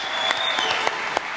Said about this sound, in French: Alors on applaudit très très fort Télémagouille